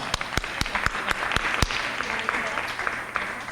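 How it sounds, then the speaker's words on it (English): At a high school college planning night, an audience gives a round of applause. A few sharp, close claps ring out at the start, then a broad, steady patter of many hands continues, with some voices underneath. "Let's give her a nice round of applause."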